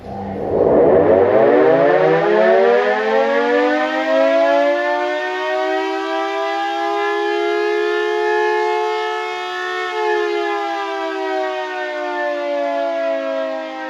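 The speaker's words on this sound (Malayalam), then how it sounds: "ദിവസവും മൂന്ന് നേരം മുഴങ്ങുന്ന കണ്ണൂർ കോർപ്പറേഷനിലെ സൈറൺ" Civil defense siren at Kannur Corporation, sounded three times a day, winding up from a low growl to a loud sustained wail that holds steady with slight waver, alone and dominant throughout.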